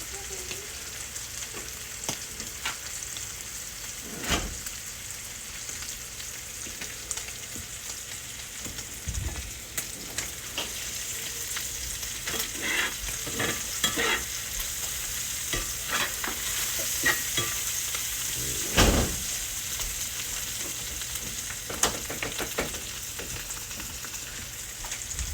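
Steak frying and searing on a hot surface for philly cheesesteaks, a continuous close sizzle throughout with occasional scraping and stirring knocks from a utensil.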